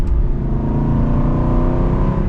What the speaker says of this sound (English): you get a lot of engine noise from the engine itself, and then you get the exhaust noise from behind you